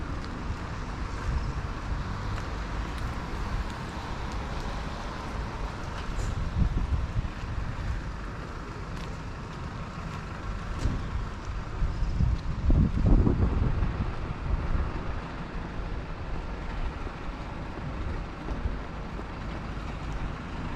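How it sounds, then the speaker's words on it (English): Breezy outdoor wind in Great Yarmouth, a steady low rushing buffet on the microphone with a brief stronger gust midway, no voices. "A little bit breezy"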